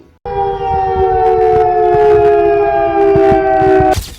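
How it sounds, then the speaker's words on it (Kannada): A civil defence siren blares loud and close before a nationwide mock drill in India. It gives a steady, sustained wailing tone for nearly four seconds before stopping. "ಮಾಕ್ ಡ್ರಿಲ್ಗೂ ಮುನ್ನ ಮೊಳಗಿದ ಸೈರನ್ ಸದ್ದು"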